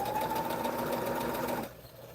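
A sewing machine stitching quilt blocks runs in a steady, fast whirring drone, then stops abruptly as the bobbin runs out, leaving quiet room tone.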